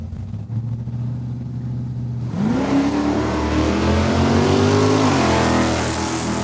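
A Super Coupe drag racing car launching down the strip at Saskatchewan International Raceway: a low idle rumble, then an abrupt loud roar climbing in pitch through a shift and rising again, staying close and powerful to the end.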